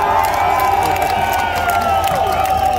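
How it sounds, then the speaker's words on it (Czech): A concert crowd in Liberec claps and cheers steadily, a dense roar of applause with whoops over a sustained musical drone, loud and close throughout. "Ale pojďte nám zatleskat"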